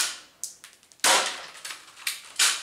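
A DL60 Socom airsoft pistol fired at small targets, sharp snappy cracks at close range, several quick shots spaced unevenly with softer pellet impacts and ticks between them.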